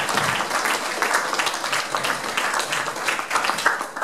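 A crowd at an accordion festival in Ráckeve, Hungary, applauds steadily and loudly throughout, a dense wash of many hands clapping.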